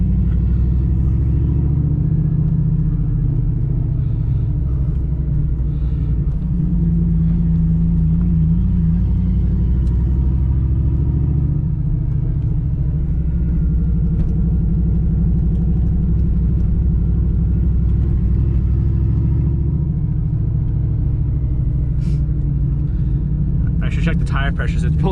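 V8-swapped Volvo running on Holley Terminator X fuel injection with a welded differential, its engine giving a loud, steady low rumble from inside the car as it drives, with a grabbing clutch and a voice talking over it.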